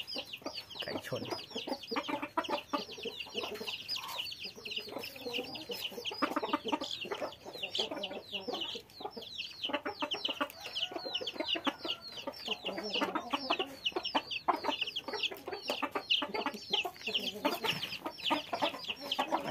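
Fighting cock chickens on a farm cluck steadily and densely throughout, with dense overlapping calls and occasional crowing against a busy yard background.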